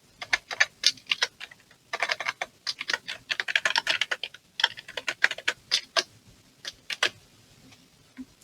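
Computer keyboard typing while entering text in Figma on a computer, with quiet, close, irregular bursts of key clicks and brief pauses between runs.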